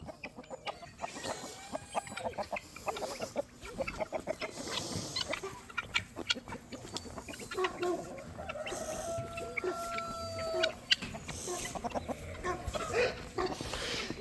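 Chickens and roosters clucking and calling throughout, several birds close by with overlapping squawks and a busy farmyard background.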